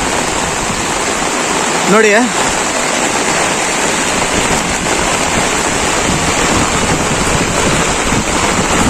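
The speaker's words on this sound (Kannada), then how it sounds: "ಭಾರಿಯಿಂದ ಅತಿ ಭಾರಿ ಆಗಿರುವಂತಹ ಮಳೆ ಸುರಿತಾ ಇದೆ." Very heavy rain pours steadily onto a tomato field in Chintamani taluk, Chikkaballapur district, a dense, loud, continuous roar with brief speech near the start.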